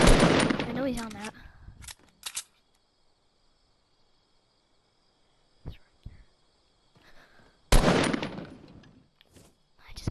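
Assault rifle fire in the Fortnite video game: short sharp bursts of close, loud shots at the start and again near the end, separated by quiet gaps, with a voice speaking over the first burst.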